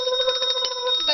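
Bright electronic notification bell ringing alone, a sustained tinkling ring with rapid repeated pulses layered over steady high tones for about a second.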